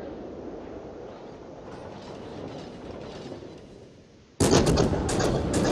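A warship's guns fire a salvo in a naval combat video game. A low rumbling bed gives way to a sudden loud, close blast of gunfire that keeps roaring afterward.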